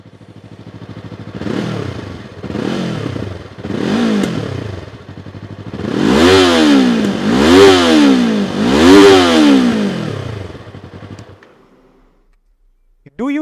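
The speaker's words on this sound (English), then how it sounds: "Do you like the MT-03's exhaust note?" A Yamaha MT-03 motorcycle's exhaust revs in repeated bursts, three shorter throttle blips followed by three louder, deeper revs that rise and fall, close by, then cut to near silence.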